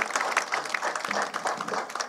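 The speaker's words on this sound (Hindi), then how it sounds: "एक बार जोरदार तालियों से उनका अभिनंदन, स्वागत।" An audience at a formal gathering bursts into loud, dense applause. The clapping is sustained and evenly textured across the short stretch, with a faint murmur of voices mixed in.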